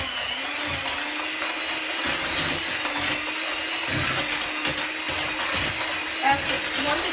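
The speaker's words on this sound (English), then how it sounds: "take my hand mixer and mix this up" An electric hand mixer whirs steadily as it beats butter in a bowl, a continuous close motor whine with slight bumps in pitch as the beaters move through it.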